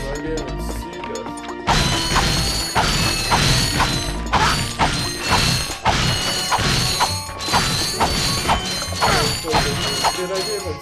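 Crates smash one after another in the Ratchet & Clank video game, loud repeated crunching bursts with metallic clatter over a busy game soundtrack.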